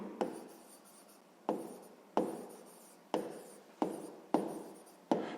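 Handwriting of four-digit numbers during a sixth-grade maths exercise, a pen or pencil on paper making six or seven short scratchy strokes at a steady rhythm, close and quiet with no talk.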